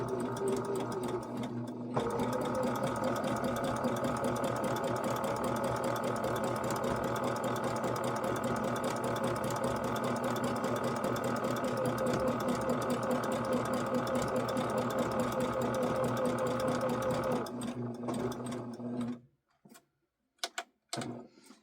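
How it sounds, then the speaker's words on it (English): A sewing machine stitches appliqué in one long, fast, steady run of rapid mechanical whirring, close and even, stopping abruptly near the end with a few small clicks after; no one talks. "This is going to be quick, down and dirty sewing."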